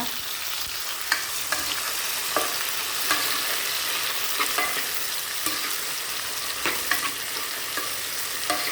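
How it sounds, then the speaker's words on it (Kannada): Tomatoes fry in a pan for small-onion sambar, giving a constant close sizzle broken by occasional sharp spatula taps and scrapes, with no talking. "ಸ್ವಲ್ಪ ಟೊಮೊಟೊ ಎಲ್ಲ ಚೆನ್ನಾಗಿ ಫ್ರೈ ಮಾಡೋಣ"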